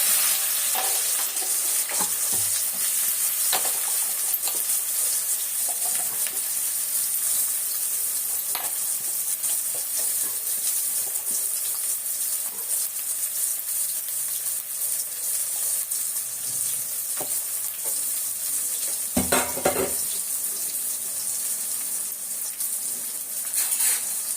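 Chopped small shallots fry and get stirred in a pan for a Kerala chicken dish. A loud, steady hiss of frying goes on throughout, with scattered stirring clatters and one stronger clank near the end.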